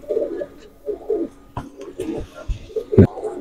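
A male pigeon coos in low, throaty, rolling phrases, several soft bursts close by, with a few faint shuffles and taps in between.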